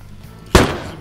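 A single sharp gunshot in the survival shooter Deadside, loud and close, with a short decaying tail in otherwise quiet surroundings.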